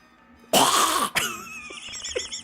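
A Final Fantasy Tactics: War of the Lions character lets out one harsh, loud cough that ends abruptly, followed by a smaller throat-clearing rasp and faint breathy sounds trailing off.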